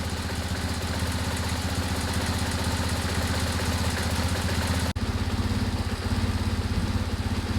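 BMW R1150GS motorcycle boxer engine idling steadily at operating temperature on a stand with the rear wheel removed, a loud, continuous throbbing close by, briefly dipping near the middle before running on evenly.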